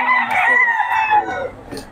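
A young gamecock stag, about 1 to 8 months old, crows once in a loud, close, drawn-out call at a Pampanga rooster sale, with faint background noise and no clear talk over it.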